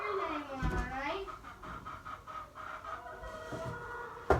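Chickens clucking on a farm, with irregular bursts of hen calls mixed among close talking and movement.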